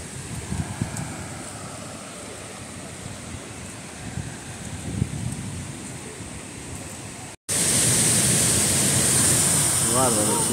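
Nivinco waterfall near San Martín de los Andes rushes in a broad continuous roar, loud and close, with people talking over it in the first part.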